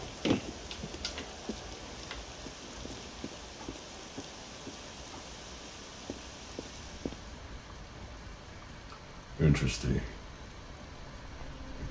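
Light rain patters steadily with scattered ticking drops in the video game Assassin's Creed Unity, and a person briefly says a word near the end.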